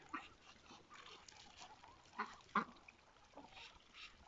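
A blue domestic duck gives a few faint, scattered quacking calls, with one louder call in the middle against a quiet farmyard background.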